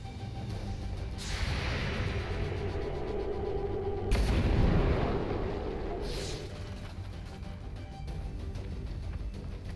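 Gunfire and heavy blasts from the XCOM 2 video game roar continuously, with dense booming hits and a loud crash near the middle over a constant wash of battle noise.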